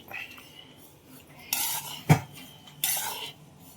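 Sugar being stirred into roasted moong dal flour for ladoo, with two bursts of gritty scraping from a spoon against a steel bowl and one sharp clink between them, close up with no talk.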